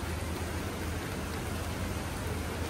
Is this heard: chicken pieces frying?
no